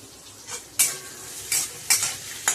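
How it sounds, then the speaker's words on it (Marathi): Drumstick pods being sautéed in a pan over low heat for a Maharashtrian bhaji, with a soft background sizzle and a few sharp scraping stirs of a spoon against the pan. "परतत राहायचं।"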